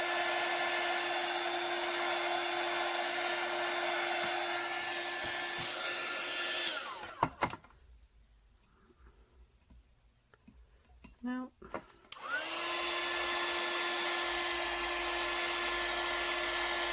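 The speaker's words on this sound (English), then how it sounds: "So my little heat gun." A small heat gun blows a steady, loud whoosh with a constant whine while it lifts a sticker, cuts off for several seconds with faint handling noises, then starts up again and runs on.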